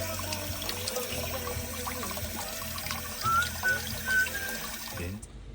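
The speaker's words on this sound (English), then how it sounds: "now I was able to rinse through the entire system inside the motor, and a lot of dirt really came out" Water gushes and pours steadily as it flushes dirt out through the cooling system of an old, rusty Mitsubishi diesel engine on a sailboat, with a continuous splashing flow that cuts off at the end.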